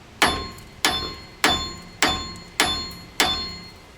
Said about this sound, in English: Now first we're going to give a couple good whacks on the sides.